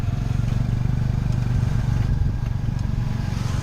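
Low, steady engine rumble from a tuk-tuk riding through town, a continuous close droning chug with faint rattles and no pauses.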